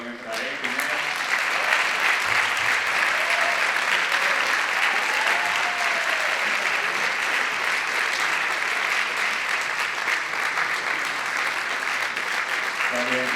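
An audience at a Broadway-themed musical concert gives the singers loud, sustained applause that fills the hall evenly, with faint voices underneath.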